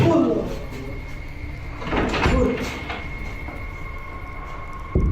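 Heavy pounding against a locked set of doors, followed by rattling of the doors, comes in a loud burst near the middle over a steady hum, with another sharp knock at the end.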